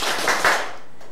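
A classroom of students claps on command, giving a couple of ragged group claps that land as short, bright bursts before trailing into quiet room tone.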